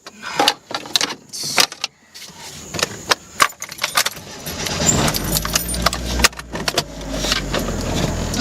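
Car keys jangle and clink in bursts close by, with sharp metallic rattles, followed by a car door and engine-area noises toward the end.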